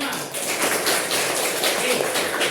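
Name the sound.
class clapping hands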